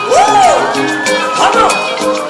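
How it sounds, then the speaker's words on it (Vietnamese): Audience at a live rap performance cheering and whooping, a loud crowd roar with rising shouts and a few high voices, no distinct clapping. "Dạ mọi người có thể vỗ tay cho phần rap này rất là đặc biệt luôn"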